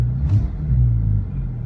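A Porsche 997 engine idling close by, a deep, steady rumble that swells briefly with a light rev near the start before settling back to a smooth idle.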